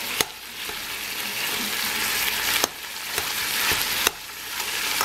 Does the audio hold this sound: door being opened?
no